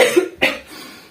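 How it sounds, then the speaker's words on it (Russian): A person coughs up phlegm after a breathing exercise: a short throaty sound, then one sharp wet cough close to the mic, fading into quiet breath. "Хочется уже кашлять."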